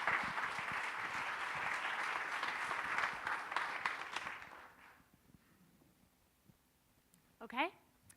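A seated audience applauds to welcome a speaker at an evening talk at Stone Barns, a steady close round of clapping that fades out after about four seconds, followed by quiet and a brief voice.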